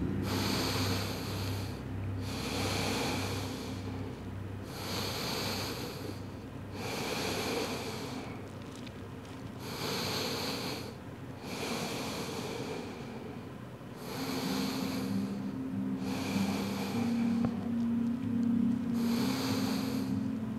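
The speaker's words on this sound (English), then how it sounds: "Breathe deeply." Slow, deep breaths during a yoga child's pose, about eight long breaths in a steady rhythm, each a soft airy rush close to the microphone with short quiet gaps between them.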